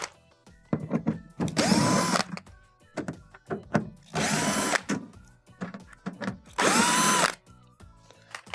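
A power drill with a nut driver bit backs quarter-inch bolts out of the rear of a KitchenAid refrigerator, three loud whirring bursts of about a second each separated by quieter clicks and handling knocks.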